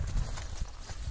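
Horse hooves clip-clop on the ground during vaquejada horse training, a quick irregular series of dull thuds close by, with faint voices in the background.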